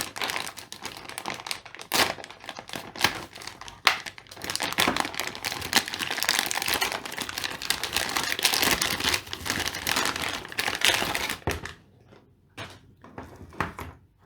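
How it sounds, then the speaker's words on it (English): A plastic accessory bag packed with power supply cables is cut open and handled close up, with loud crinkling and rustling plastic plus sharp clicks and taps, easing off into quieter handling near the end. "Now let's cut open this bag and see what extra cables we have."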